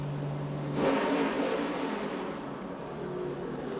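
An old NASCAR Sprint Cup race car engine at Bristol, a steady mid-pitched drone that swells briefly as it passes close, then holds at a loud, even roar with no talk.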